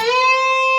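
Electric guitar string bent up a tone and a half during a guitar solo, one sustained clean note held steadily for under a second, close and loud.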